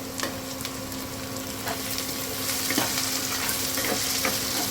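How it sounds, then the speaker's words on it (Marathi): Onion sautéing in a pan for a village-style drumstick pithla, a steady close sizzle with small stirring scrapes and clicks throughout, growing slightly louder toward the end. "हे बघ आपला कांदा छान परततो इथे अजून थोडा वेळ परतू देऊया कांदा"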